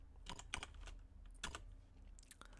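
Quick, faint keystrokes tap on a computer keyboard in an uneven cluster over a low steady hum, with no voices.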